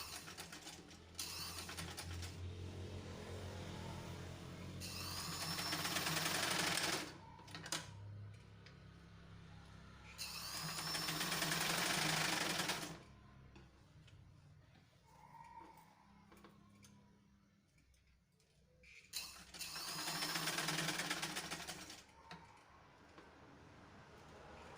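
A sewing machine stitching a pleated sarong skirt in bursts of fast, rattling mechanical stitching, three or four separate runs with quieter pauses between them.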